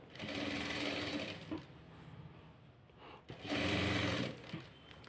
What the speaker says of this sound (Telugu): ఇలాగే ఎడ్జు కుట్టు వేసేసుకుందాం.